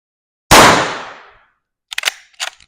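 A single loud, close gunshot fired during a barrel length velocity test, a sharp crack with a decaying tail lasting about a second, followed by a few short faint clicks.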